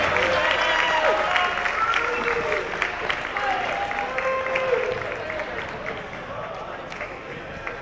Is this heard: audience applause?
yes